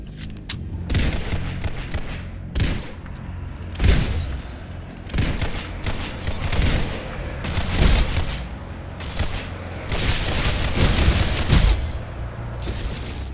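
Dense video game gunfire rattles throughout, rapid overlapping bursts and booming shots in uneven clusters, loud and close, with no talking over it.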